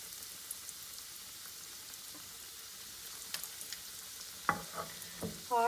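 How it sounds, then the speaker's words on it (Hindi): Potato triangles frying in oil over medium heat make a soft, continuous sizzle that builds toward the end with louder bubbling crackles and pops, and no one speaks. "और दरमियानी आंच पर हम लोग इनको फ्राई करेंगे और गोल्डन ब्राउन करके उतारेंगे।"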